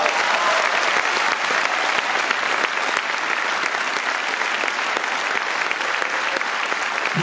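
An audience applauds loudly and continuously at the close of a charity musical theatre show, sustained dense clapping throughout without speech over it.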